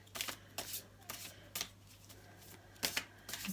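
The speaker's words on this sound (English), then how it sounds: "my clumsy shuffling would not be so much of an issue" Clumsy shuffling of a tarot deck held in the hands, not over a desk: a series of short riffling bursts with pauses between them, close and fairly quiet, with no voices.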